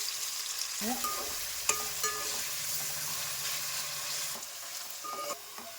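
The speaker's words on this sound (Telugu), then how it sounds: "ఉల్లిపాయలు వేసుకున్న తర్వాత ఈ ఉల్లిపాయలని కొంచెం ఎర్రగా వేగనిద్దాం." Onions frying in hot oil in a pan for chicken gravy, a steady close sizzle with utensil stirring and scraping sounds.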